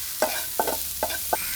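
A chicken mixture seasoned with salt is stirred in a pan, four evenly spaced scraping strokes of a spoon over a faint background sizzle, close and clear with no voices.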